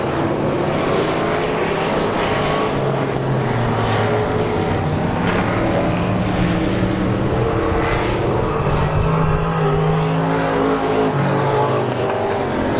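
Limited modified race cars roar around South Texas Speedway in a continuous loud pack, engines droning and shifting pitch as they sweep down the back chute into turn three, with no talk over the steady engine wash.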